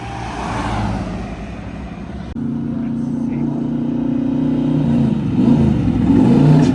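A Lamborghini Espada drives past during car unloading at Monterey Car Week, with a loud mid-pitched engine note that rises and builds as it approaches, heard close.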